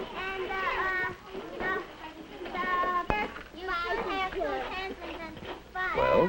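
A busy school classroom full of children, with many young voices chattering, calling and squealing over one another in a constant, loud hubbub and a sharp knock partway through.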